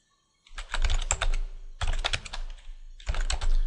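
Rapid typing on a computer keyboard comes in three dense bursts of close, crisp key clicks with short pauses between them, and no voices are heard.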